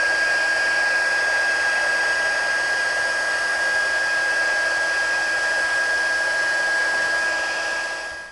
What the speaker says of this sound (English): we're going to use our heat emboss tool. And we're going to heat up that powder.